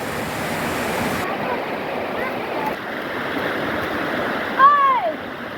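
Water rushes steadily along an irrigation ditch beside rice fields in the village of Cipancar, a constant close wash of flow, with a short chirping call cutting in near the end.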